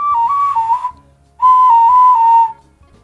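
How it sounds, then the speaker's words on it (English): A homemade ocarina whistle gives two clear, steady tones close up, with a short pause between them. The pitch wavers slightly within each note, and no one speaks. "try whistling each time in between making holes"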